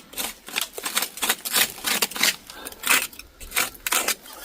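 A garden weeding tool rakes clay mortar out from between the stones of a 17th-century French stone cottage, making a run of quick, gritty scrapes and scratches in an uneven rhythm, close to the microphone with no talk.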